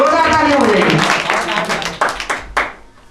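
Studio audience applause for a correct answer on a live quiz show, a burst of clapping rising under a host's voice and tapering into scattered claps.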